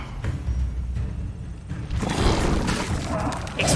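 The Levioso spell being cast in the video game Hogwarts Legacy, heard as a sharp magical whoosh followed by a booming, crackling burst that swells and lingers over low rumbling game ambience.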